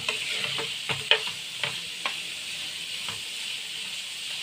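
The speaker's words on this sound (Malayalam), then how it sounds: "ഈ സവാളയും പച്ചമുളകും കൂടെ നമുക്ക് നന്നായിട്ട് വഴറ്റിയെടുക്കാം" Onion, green chilies and curry leaves sauté in a hot pan with a continuous close sizzle, broken by quick scraping stirs of a spatula against the pan.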